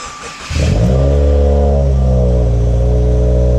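A 2018 Subaru WRX engine, with TGV and EGR deleted, cranks and catches, then settles into a loud, steady, close idle with a deep rumbling hum.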